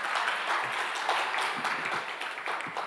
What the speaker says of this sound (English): A big round of applause once again for our Minister